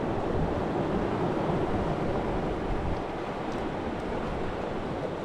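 Strong wind roars steadily across an open seashore, a broad constant rush with surf-like noise and no voices.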